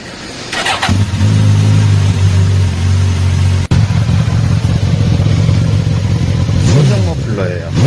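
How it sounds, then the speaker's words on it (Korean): A 1000cc engine with its stock muffler cranks briefly, catches and settles into a steady, loud idle that runs close up for the rest of the clip, with a short dip midway and a slight rev near the end. "시동을 한번 걸어 볼게요."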